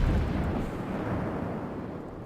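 Heavy naval gunfire from warships in World of Warships, including a Tier 7 New Orleans cruiser in battle, comes as a loud, sustained low rumbling boom that slowly decays across the whole stretch, with no talk over it.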